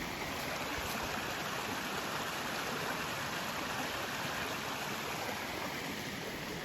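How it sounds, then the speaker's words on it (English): Steady broadband rush of flowing creek water on the Appalachian Trail, continuous and close, with no voices or other sounds over it. "This might have been actually the creek that we got our water from further upstream."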